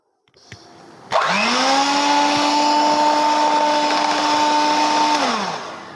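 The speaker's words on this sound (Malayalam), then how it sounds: "അപ്പോൾ ആദ്യം ഞാൻ സ്പീഡ് കുറച്ചിട്ടാണ് ഒന്ന് ബീറ്റ് ചെയ്തെടുക്കുന്നത്" An electric beater whirs steadily at low speed while beating a cake mixture, a loud even motor hum that starts abruptly, holds for about four seconds and then winds down.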